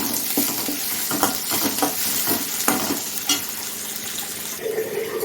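Onions, green chillies and curry leaves are sautéed in a pan for okra sambar, producing a close, steady sizzle broken by frequent spatula scrapes and stirs.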